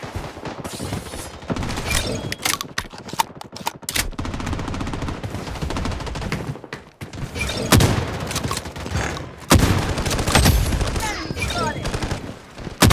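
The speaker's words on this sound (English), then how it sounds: "I'm under heavy fire." Gunfire rattles through a Bloodstrike match with an M1887 shotgun, dense rapid volleys and sharp single blasts crowding close and loud, broken by brief pauses, with game voice callouts mixed in.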